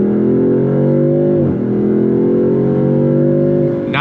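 A 2026 Dodge Charger Sixpack with a 550-horsepower 3-liter twin-turbo straight six and 8-speed automatic pulls hard in sport mode, its loud engine note climbing steadily, dipping briefly through a quick upshift, then rising again up close.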